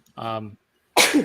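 A single sneeze, short, sharp and close, after a brief spoken word.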